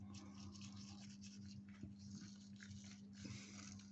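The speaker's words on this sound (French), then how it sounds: "Un coup de brosse à dents." Quiet, quick scrubbing strokes of a toothbrush against a Peugeot 103 moped carburetor part, rapid rhythmic scratching with a few soft knocks, close and faint.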